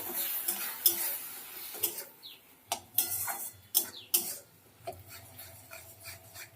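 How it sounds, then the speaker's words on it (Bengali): Ginger-garlic paste and spices being stirred and fried in a pan for a village-style taro corm curry. A spatula scrapes and clinks against the pan in close, uneven strokes, with no voices. "আদা রসুনের পেস্টটা দিয়ে দিলাম এর মধ্যে এবার ভালো করে সব কিছু দিয়ে কষাবো"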